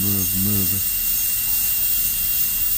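A high-speed dental drill whines steadily while preparing a posterior tooth for a stainless steel crown. The continuous high-pitched tone runs close and loud throughout, with a short voice at the start.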